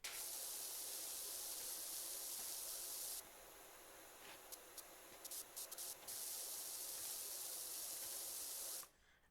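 Cleaning game soap sprayer blasting a loud, steady hiss of spray that drops out briefly in the middle with a few short bursts, then resumes before cutting off near the end.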